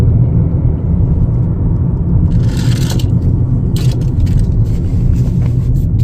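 Cabin of a 2025 Chevrolet Equinox LT on the road: a loud, steady low engine and tyre rumble, with faint scraping road noise rising now and then.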